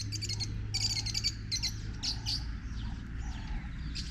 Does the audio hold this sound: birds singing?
yes